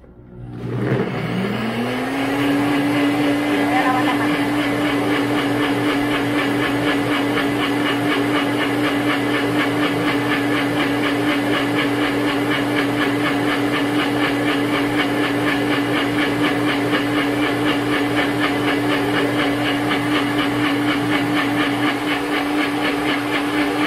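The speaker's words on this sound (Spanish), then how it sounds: "Y me voy a proceder a licuar esta, ponerlo aquí en la licuadora" Blender whirring steadily as it blends an almond butter drink, a loud continuous motor hum that spins up in the first second and then holds at an even pitch, with no talking.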